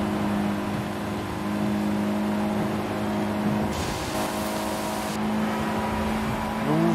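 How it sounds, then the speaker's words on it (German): A car engine in the racing game Forza Horizon 5 drones steadily at high revs with a sustained whine, held near the limit and shifting pitch midway, continuous and loud with no speech. "Wir drehen den Motor bis zum Anschlag."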